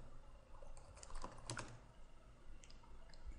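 Keystrokes on a computer keyboard, entering a program name into a search box: a quick, uneven run of clicky taps with one denser burst in the middle, close up against faint room hiss.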